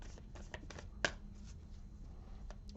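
Affirmation cards are shuffled and handled in soft, close riffles and flicks with one sharper tap, quiet against a low background hum.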